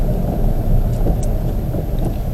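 A Honda Civic on the Knockhill circuit rolls in at low speed to park behind another car, a low steady engine and tyre rumble heard from inside the cabin with no talking.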